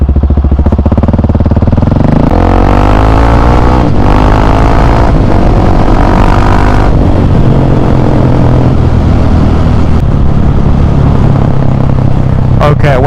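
A KTM 701 Supermoto motorcycle engine runs loud and close from the rider's position, rising and falling through gear changes as it pulls away on a cruise, with wind buffeting throughout.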